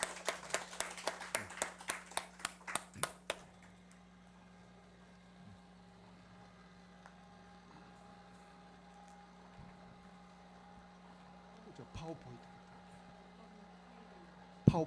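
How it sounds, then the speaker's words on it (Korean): A burst of steady rhythmic clapping from a church congregation, about a dozen even claps, then it stops and only a quiet room hum remains. "박수로 환영합니다"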